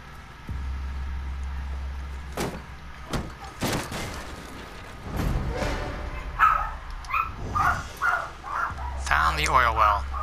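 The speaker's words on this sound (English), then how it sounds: "And there goes the dogs." Dogs barking in the Mad Max video game, several sharp barks and yips scattered through a busy game soundtrack with low engine rumble, with a voice talking over them.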